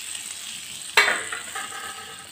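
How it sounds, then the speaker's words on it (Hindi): Hot ghee hits chickpea curry (chole) in an iron kadai with a sudden loud sizzle that bursts out and then settles into a steady, fading crackle, with no talking. "अब हम इस छोले में घी को डाल देंगे जो हम जला के रखे हैं।"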